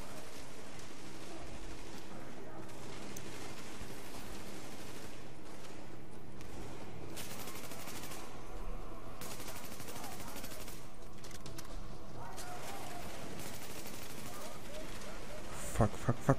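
Enemy gunfire in the PS4 shooter The Division: dense, continuous bursts of automatic weapon fire and shots fill the scene, with a voice talking over the fighting.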